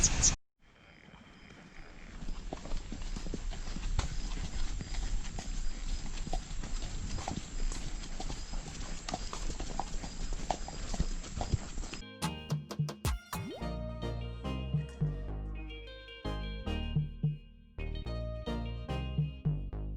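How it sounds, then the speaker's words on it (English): Horse hooves clip-clopping during a horseback ride on a beach near Punta Cana, a quick, close rhythmic trot at first, then slower, more spaced hoofbeats with brief bursts of background voices. "you actually get to go horseback riding on the beach"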